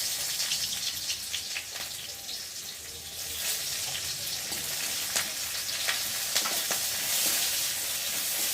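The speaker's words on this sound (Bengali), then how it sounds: "পেঁয়াজটা একটু ভেজে নেবো" Onion frying in oil with dried red chilli and bay leaf, a steady close sizzle with faint crackle and occasional stirring clicks running throughout, no voices.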